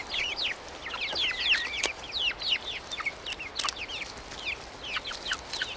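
Chickens cluck and chatter in quick, overlapping bursts close by, a busy run of short calls from several birds with no talking.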